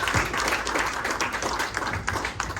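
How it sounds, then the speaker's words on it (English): Audience applause at a Ducati motorcycle race team party in Austin, Texas: a dense, steady burst of many hands clapping close by, with no talk over it. "Big round of applause for PJ Jacobsen."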